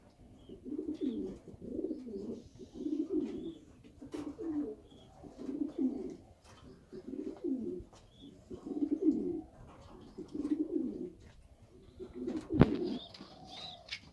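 Danish and German Beauty pigeons cooing in a loft, repeated low rolling coos in a steady rhythm, close and fairly soft, with a sharp knock near the end and no talk.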